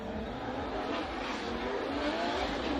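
Drift cars at a Formula DRIFT competition in Montreal, a Nissan S13 leading a BMW on Achilles tyres, roar in a sustained, loud engine drone with a continuous wash of tyre and crowd noise, steady throughout.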